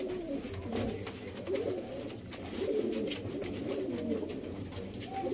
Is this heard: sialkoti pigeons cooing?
yes